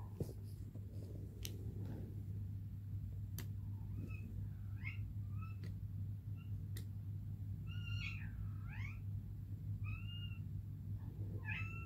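A pet cat meows indoors several times, short chirpy calls in small groups, faint over a steady low hum, with scattered light clicks and tapping around it.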